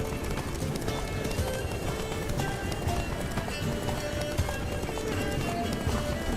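Roach, Geralt's horse in The Witcher 3: Blood and Wine, gallops with a rapid, continuous clip-clop of hooves close up, mixed with game ambience and occasional whinnying.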